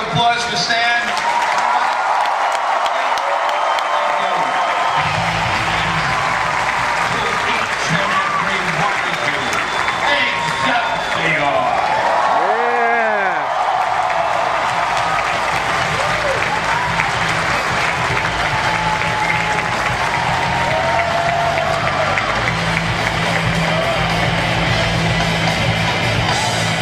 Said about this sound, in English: everybody a big round of applause for Stan